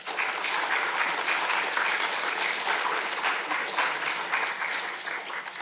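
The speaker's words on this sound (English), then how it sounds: "Please give them both a big round of applause" A lecture audience applauds two academic speakers, dense sustained clapping from many hands filling the room at an even, fairly loud level from start to finish.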